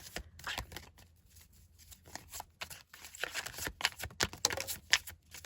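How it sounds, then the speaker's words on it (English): Tarot cards being shuffled by hand, a close run of papery riffles, slaps and flutters in uneven bursts, growing busier toward the end, with no talking. "One more shuffle and then we'll get into it."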